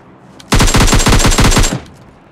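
A single rapid automatic burst of about a dozen loud, evenly spaced shots finishes off a knocked enemy in PUBG Lite, cutting off abruptly after a second.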